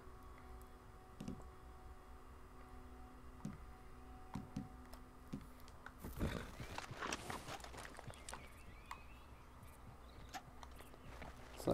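A horse in Red Dead Redemption 2 gives a sudden neigh amid quiet game ambience, with faint scattered hoof clops and ticks around it; the whinny bursts out midway, then the scene settles back to a low hush.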